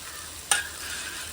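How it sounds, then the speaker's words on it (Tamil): Vegetables and potatoes sautéing with biryani masala for a vegetable dum biryani make a steady sizzle, broken by one brief sharp spoon scrape or clink near the middle. "இப்போது காய்கறி கொஞ்சம் வதங்கணும்"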